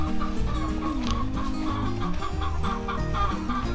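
Several hens cluck steadily and overlap one another in a busy, close-up chorus, with no voices present.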